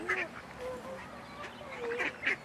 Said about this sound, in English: Oh, I can touch the duck.